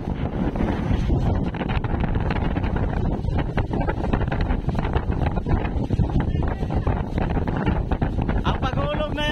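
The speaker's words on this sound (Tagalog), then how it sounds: "Grabe kalakas ng hangin" Strong wind roars steadily across the microphone at sea, a loud, continuous buffeting rush that persists throughout, with occasional voices faintly beneath it, aboard a boat with a broken-down engine.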